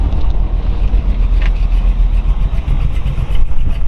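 A 1933 Ford Roadster American Speed Cabriolet engine rumbles loudly at close range, a steady deep idle with a slight rise as it is revved.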